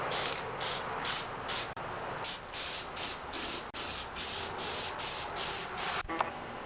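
Repeated short hissing bursts of gloss black spray paint on a John Deere 316 tractor being restored, evenly paced in a series of quick pulses, close by with a pause in between.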